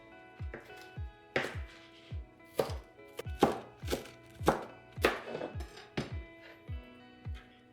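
A knife chops green onions on a cutting board in a steady series of crisp, close thunks, about a dozen strokes in uneven rhythm with short pauses.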